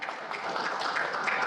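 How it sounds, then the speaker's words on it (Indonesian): Audience at a talk-show panel gives a short round of applause for a speaker, a brief steady patter of clapping at modest volume with no voices over it. "tepuk tangan untuk Pak Narko ya."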